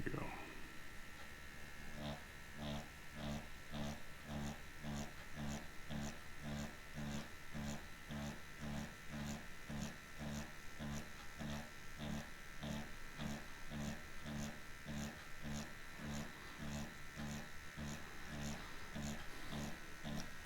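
An Xnet Vipera tattoo machine runs at 3.3 volts with a steady, rapid buzzing hum pulsing in an even rhythm, close and continuous for the whole stretch with no talk over it.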